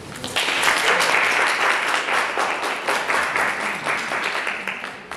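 An audience at a National Science Week 2023 science debate applauds the opening speakers: dense, steady clapping that starts abruptly, holds for about five seconds and tapers off at the end.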